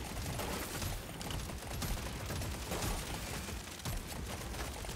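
Rapid, dense gunfire from the M1000 in Deep Rock Galactic Survivor, a steady stream of shots layered over continuous game noise with no pauses across the stretch.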